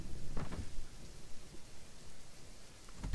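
Steady rain from a video game sound effect hisses softly, with occasional low rumbles like distant thunder, quiet and continuous with no talking.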